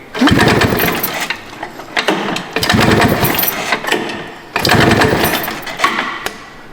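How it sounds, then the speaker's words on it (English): Recoil starter on a vintage Kawasaki Drifter motorcycle engine pulled three times in succession, each pull a loud close mechanical chugging whir lasting about a second and a half, separated by short pauses. "Oh, this recoil's a treat."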